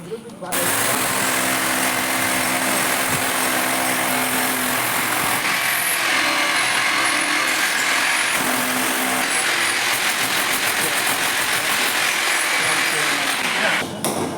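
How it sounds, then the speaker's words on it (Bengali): An electric drill bores into a room ceiling to set a fan hook, giving a loud, continuous grinding whine that runs nearly unbroken for about fourteen seconds at close range. "এখন কিন্তু আমি এখানে ড্রিল করব।"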